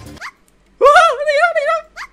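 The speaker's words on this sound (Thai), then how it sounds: "เสียงลูกหมา" A puppy whimpers in the Minecraft video game: a short high yip, then a longer wavering whine with rising and falling pitch, and another brief yip at the end, fairly loud against quiet gaps.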